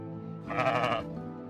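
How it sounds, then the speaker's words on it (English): A single sheep bleats in Surviving the Aftermath, a short wavering call that is fairly faint and stands alone. "Okay, we've got six sheep."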